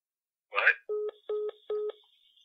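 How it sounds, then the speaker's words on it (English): A phone line cuts out during a podcast call, a short burst of garbled, distorted sound followed by three evenly spaced electronic tone beeps, clean and fairly loud against silence. "I think Drew's phone must have just died"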